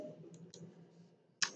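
A computer mouse clicks crisply while cells are selected in a Microsoft Excel spreadsheet: a few faint clicks, then one sharp, louder click near the end over a low hum.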